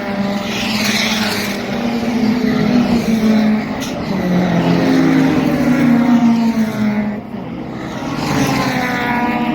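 A Jeep race car slides sideways around the Killarney race track. Its loud engine roars and wavers in pitch as it drifts, dips briefly, then rises again, heard close for several seconds.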